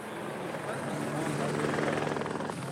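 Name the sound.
firefighting aircraft engine during water drop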